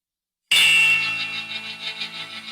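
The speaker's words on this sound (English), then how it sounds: "This was my ringtone every morning." A phone alarm ringtone starts abruptly after a brief silence, a bright chiming bell-like tone that rings out loudly and decays with a pulsing shimmer, with no voices.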